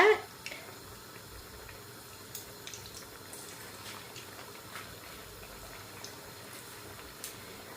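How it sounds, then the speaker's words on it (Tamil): Sago vadas deep-frying in a pan of hot oil give a faint, steady bubbling hiss that holds evenly throughout, with a few soft ticks and no voices. "இப்போ நான் வடையெல்லாம் போட்டுட்டேன் இப்போ இது நல்லா பொரியட்டுக்கும் பொரிஞ்சு கோல்டன் ப்ரௌனாக வரும்"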